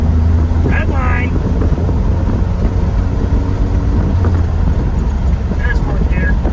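Steady engine drone of a 1995 Chevy 1500 pickup with a 4.3 engine pulling hard through the gears at highway speed, loud and continuous inside the cab with road and wind rumble.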